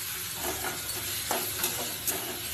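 Pointed gourd filling with prawns, potatoes and onion stirred in a frying pan: a constant close hiss of frying with a few soft scrapes of a spoon against the pan.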